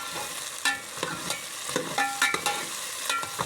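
Potatoes fry in a pot while a utensil repeatedly scrapes and stirs them, sharp metallic scrapes and knocks landing irregularly over a constant soft sizzle, close up and with no voices.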